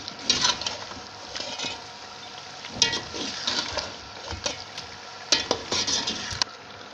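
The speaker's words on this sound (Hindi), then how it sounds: "इसे भून लेंगे अच्छे से।" Masala for beef yakhni pulao being fried in a pot: a low sizzle broken by bursts of spoon stirring and scraping, rising and falling in irregular clusters, fairly faint overall.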